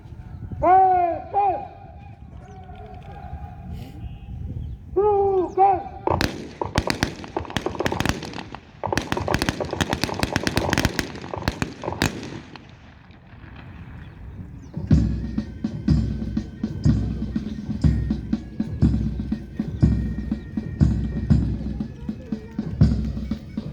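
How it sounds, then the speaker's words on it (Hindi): Ceremonial celebratory rifle volleys of harsh fire at a Republic Day parade in Rewa, with bursts of crackling shots in rapid ragged sequence, open-air and moderately distant, mixed with a commander's shouted voice and later band music. "अब तीसरे और अंतिम हर्ष फायर में हम आप सभी सावधान की मुद्रा में खड़े होंगे"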